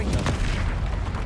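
A Confringo fire-blast spell explodes in Hogwarts Legacy, a dense, loud booming blast with deep low rumble filling the short clip.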